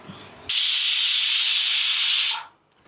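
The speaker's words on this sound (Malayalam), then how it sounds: "ഓക്കെ, അപ്പോൾ ഒരു വിസിൽ അടിച്ചു കഴിഞ്ഞു." A pressure cooker, used for cooking eggs, lets out one loud, continuous steam hiss that starts abruptly, holds steady for about two seconds and then cuts off, close to the listener.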